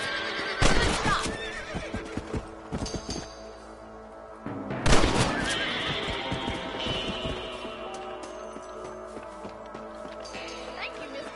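Horses whinny loudly in Red Dead Redemption, with two sharp neighs rising over clip-clop hooves and occasional gunfire, as voices talk in between.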